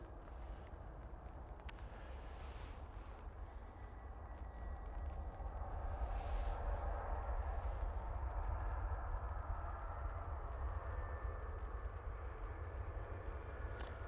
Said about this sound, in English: That's a Ryanair from Cork.